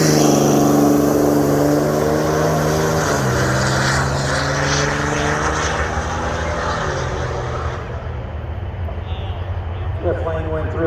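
A propeller airplane flies over a drag strip during Friday night testing, its loud droning engine tones shifting down in pitch as it passes close overhead and then fades, with steady background noise throughout.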